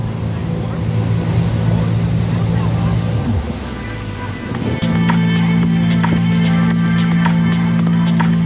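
Motorboat engine droning steadily on a big lake, a strong low hum that dips briefly midway then returns louder, with water and wind noise and people talking excitedly over it.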